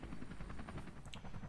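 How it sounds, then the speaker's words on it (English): Cat-shaped helicopter in Persona 5 Royal, a steady rotor whir with pulsing low thump holding at even loudness throughout, no voices. "Oh, it's a helicopter. Of course. Perfect. A cat helicopter."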